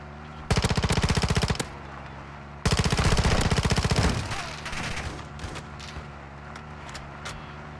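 Two long, loud bursts of rapid machine gun fire in the DMZ shooter, the second tailing off into scattered shots and mechanical clatter.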